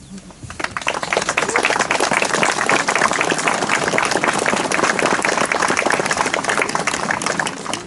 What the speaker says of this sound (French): Vous avez raison, nos résistants méritent tous nos applaudissements.